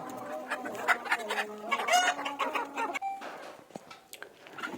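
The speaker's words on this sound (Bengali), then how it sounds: "এই খাঁচাটায় আমার 3টা দেশি মুরগি আছে, 2টা মুরগি একটা মোরগ।" Native Bangladeshi hens and a rooster cluck and squawk in agitated bursts as they are caught from a cage, loud and close. Overlapping calls fill most of the stretch, with scuffling at the end.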